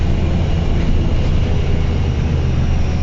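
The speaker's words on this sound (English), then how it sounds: "Even the engine sound itself sound fantastic on these buses." A Stagecoach East Midlands MMC bus on service 1 in Scunthorpe rumbles with a steady, loud engine and road drone heard from inside the cabin, with no voices.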